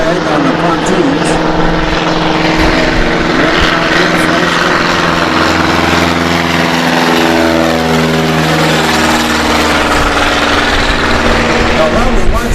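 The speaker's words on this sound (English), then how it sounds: "I know he kind of kicks back as the engine accelerates" A floatplane on pontoons drones loudly and steadily through its propeller engine in flight, the pitch climbing as it accelerates, with no letup in the roar.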